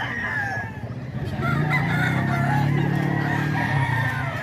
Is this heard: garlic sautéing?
no